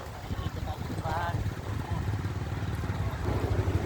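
A motorcycle engine hums steadily as it rides through Intramuros, Manila, with a voice speaking over the drone.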